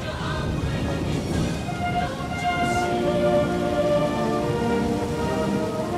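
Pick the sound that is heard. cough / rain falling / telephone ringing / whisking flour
rain falling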